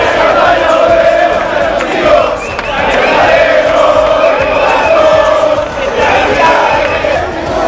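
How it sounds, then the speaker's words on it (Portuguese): Loud football crowd at a 2014 World Cup gathering in Belo Horizonte, a dense roar of massed chanting and cheering that swells and dips, with voices nearby. "Olha o clima da torcida"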